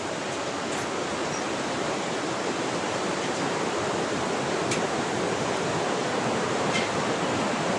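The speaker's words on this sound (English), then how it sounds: "You can see the noise of water floating." Loud, constant roar of a rushing Himalayan river beneath a cable suspension bridge on the trail from Phakding to Namche Bazar, a dense broadband wash that never lets up.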